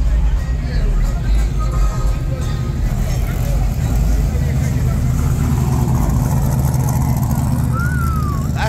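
A classic Monte Carlo with a 454 engine rumbles steadily at idle, a loud, close, continuous low growl at a small cruise night with other vehicles, with people talking over it.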